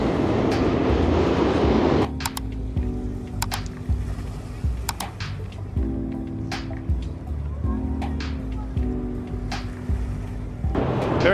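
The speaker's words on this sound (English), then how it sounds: "Very noisy around here with all the helicopters and the subway crossing over the bridge there." A subway train rumbles across a bridge by Brooklyn Bridge and DUMBO in New York, a loud roar at first, then a fainter sustained rolling hum with clicks of the track.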